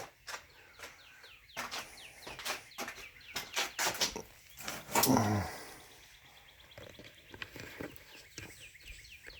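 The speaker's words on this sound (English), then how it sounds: "Birds sound great today." Birds chirp and call outdoors in quick, scattered bursts, with one louder squawk in the middle and a low background hum.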